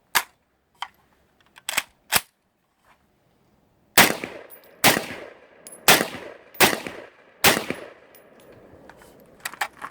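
A rifle tested with Winchester ammunition fires a string of sharp, loud shots, a few spaced apart early, then a pause, then a quicker run of roughly seven reports with ringing tails.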